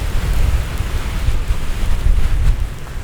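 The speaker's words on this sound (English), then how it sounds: "It's a bit windy." Strong wind buffets the microphone in continuous low rumbling gusts on a hillside near Levers Water, Coniston, with no voices.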